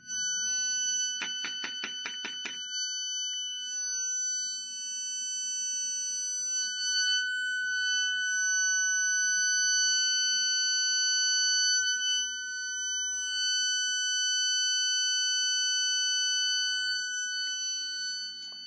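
Loud steady sine tone at a mid-range frequency drives a Kundt's tube, holding continuously after a brief burst of rapid pulsing near the start, with faint low hum underneath and no talking.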